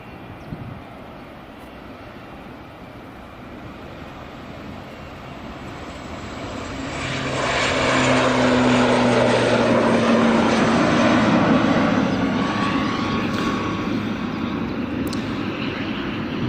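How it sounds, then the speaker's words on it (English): A Loganair ATR 42-500 turboprop airliner departs Edinburgh Airport's runway 24, its engine and propeller roar swelling from a distant rumble into a loud, sustained drone before easing slightly, with no voices. "here goes the Loganair ATR 42-500 heading off to the islands"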